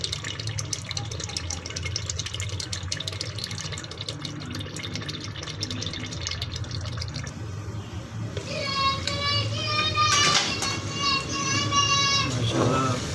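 Palak gosht, spinach and mutton in the Multani style, fries in a pan with a steady broadband sizzle that grows louder toward the end, while someone talks over it.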